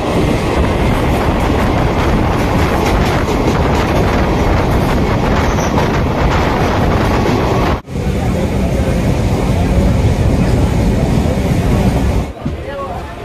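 A local train running from Sealdah to Namkhana rumbles and clatters loudly and continuously, with rhythmic wheel noise and a background babble of passengers' voices.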